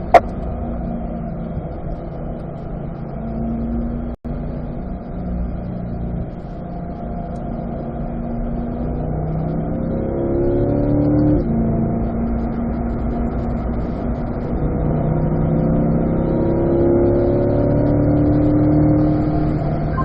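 A Chevrolet Corvette on a race track holds a steady, droning engine note whose pitch rises and falls through gear changes, continuous and moderately loud throughout.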